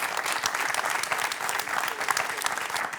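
A studio audience on a French quiz show claps in a sustained, even burst of applause at moderate level, a crowd of many hands with no talking on top.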